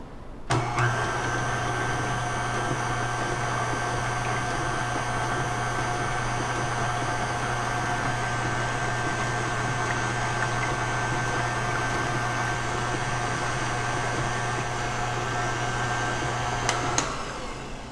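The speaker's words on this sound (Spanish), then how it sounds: "Y vamos a batir hasta que se mezclen bien" A steady electric mixer beats eggs and vanilla for flan, a constant loud motor whir with a low hum that starts abruptly and runs unbroken for most of the time before cutting off near the end.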